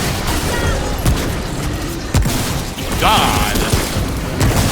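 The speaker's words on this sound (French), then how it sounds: "Je me suis explosé moi-même" Explosions in the video game Remnant burst in several loud booms amid dense noisy combat, with a player exclaiming over the din.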